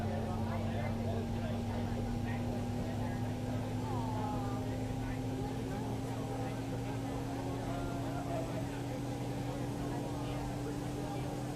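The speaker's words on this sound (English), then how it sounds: "Engine 1 is rolling over. That might be a bit loud for you guys" In the X-Plane 11 simulator, engine 1 of a Toliss Airbus A319 spools up, giving a steady, droning whine and hum that holds constant with a slight upward drift, heard alone at moderate level.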